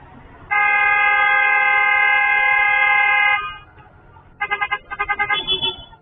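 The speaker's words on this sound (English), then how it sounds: "The getaway cars start honking like crazy" Getaway car horns honk outside a store, first one long sustained blast lasting about three seconds, then after a short pause a rapid series of short stuttering beeps, loud and close with no talking.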